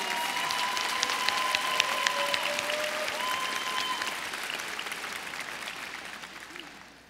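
Audience applause at a Peirce College commencement ceremony, a sustained wash of clapping that holds steady and slowly fades out, with faint tones over it.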